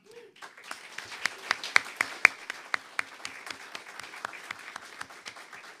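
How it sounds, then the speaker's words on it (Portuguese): Audience at a lecture on autism spectrum disorder bursts into steady applause, a dense crowd of clapping with sharp individual claps standing out, sustained for several seconds without speech. "eu gostaria que vocês honrassem com a salva de palmas"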